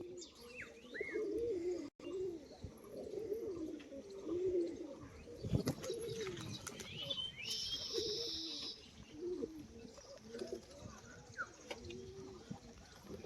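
A female ground-display pigeon coos in soft, repeated low throaty phrases during her display, with scattered bird chirps and tweets around her, fairly quiet and close.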